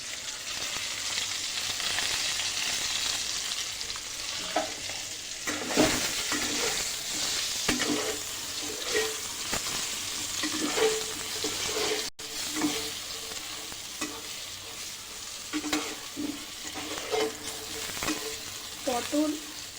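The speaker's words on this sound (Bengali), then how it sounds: "এই তেলেই পটলগুলো হালকা করে ভেজে নেব" Pointed gourd (potol) fries in oil with a constant sizzle, broken by repeated clinks and scrapes of a stirring utensil against the pan.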